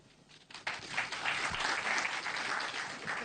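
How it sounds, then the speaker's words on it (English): Student audience at a university talk breaks into applause that swells quickly and holds as a dense, steady clapping. "this one generally deserves a clap."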